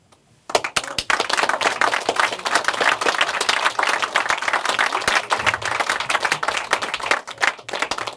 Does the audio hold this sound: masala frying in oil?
no